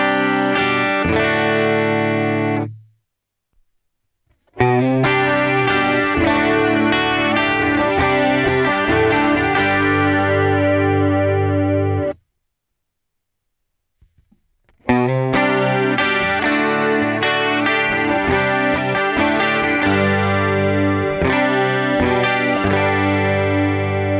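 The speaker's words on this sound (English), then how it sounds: "Lastly, I have my True Tone H2O" Electric guitar run through a True Tone H2O chorus and echo pedal, loud sustained chords with shimmering modulation in three bursts separated by brief silences, close and without talk.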